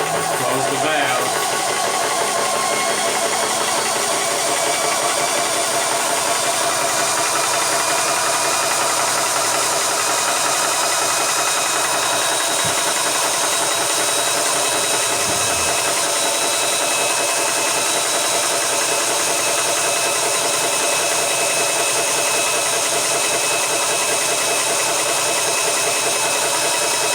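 A Vevor air compressor runs steadily while filling a 3L bottle, a loud continuous motor drone with bright hiss throughout, briefly joined by a few thumps near the middle.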